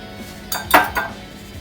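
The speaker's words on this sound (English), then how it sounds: "I'm going to start mixing it with my spoon first, and then I'll finish it with the whisk." Spoon clinking and scraping in a bowl while mixing honey nut banana bread batter, two or three quick close knocks in a brief burst.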